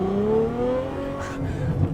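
A Ferrari F12 engine revs hard while driving, a loud, close howl climbing in pitch through a gear, then easing off with a brief whoosh and rougher low rumble at the end.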